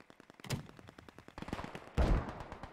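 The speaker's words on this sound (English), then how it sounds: "I hear the mortars here." Distant mortar and gunfire from a World War II game set at Driel during Operation Market Garden, a rapid crackle of repeated shots with a heavier thump near two seconds, moderately faint overall.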